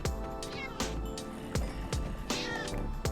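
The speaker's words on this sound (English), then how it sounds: "There's going to be cats going everywhere, so try to kill them as fast as you can so they don't run around too much." Minecraft Bedrock cats in a farm meow repeatedly, several sharp cries falling in quick succession at roughly regular intervals, close and loud over a busy background of game noise.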